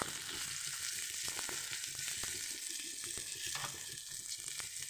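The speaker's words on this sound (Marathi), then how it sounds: "ॲपलला फक्त 1 मिनटं तळून घ्यायचं आहे." Half a large apple fries in hot oil in a pan, giving a steady, close sizzle with scattered small pops and crackles throughout, no voices.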